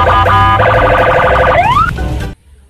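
Toy white police car siren sounding loud and close, a rapid electronic warbling wail that sweeps upward near the end and cuts off abruptly, leaving near silence.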